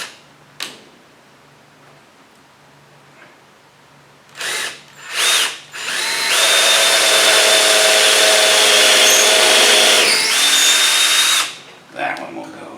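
A power drill bores a hole into a wooden boat deck during repair: a few short bursts of whirring, then a loud sustained grinding run of about five seconds, stopping and starting once more, close up.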